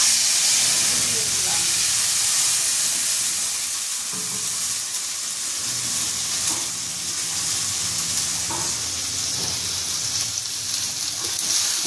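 Tomato, garlic and green chilli paste sizzling loudly in hot oil with black cumin seeds, a steady close hiss and spatter throughout with occasional stirring scrapes.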